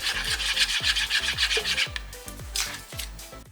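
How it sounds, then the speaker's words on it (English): A spoon stirs a sauce of Worcestershire and sugar in a bowl, making repeated rhythmic scraping and grinding strokes, close and moderately loud, with no talking. "Now, stir the ingredients until they are well combined and until the sugar has dissolved."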